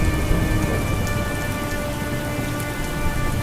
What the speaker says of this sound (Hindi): तभी तेज बारिश शुरू हो जाती है।